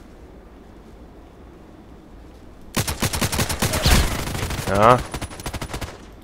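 Gunfire in the shooter game Contract Wars: after a quiet stretch, rapid automatic bursts erupt close and loud, continuing for several seconds, with a brief spoken exclamation and a rising whine near the end.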